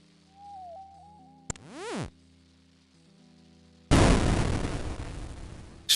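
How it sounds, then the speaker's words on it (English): A powder keg goes off in a video game puzzle, a loud, sudden burst that rumbles on for about two seconds after a short tone and a rising whoosh. "Explosion."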